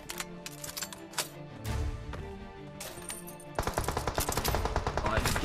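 Rapid gunfire in the mobile battle royale game PUBG Mobile: scattered single shots early, then a loud, fast automatic burst of steady cracks through the final seconds, with no speech over it.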